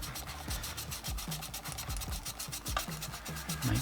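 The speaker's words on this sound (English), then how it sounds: "So this is a fiberglass pen." Fiberglass scratch pen rubbed over a Hornby Texaco model railway tank wagon, giving a steady close scratchy rasp in quick repeated strokes with no talking.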